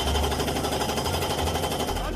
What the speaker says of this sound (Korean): 대형 장비가 굉음을 내면서 쇠 말뚝을 때려박는 등 매우 시끄러웠던 겁니다.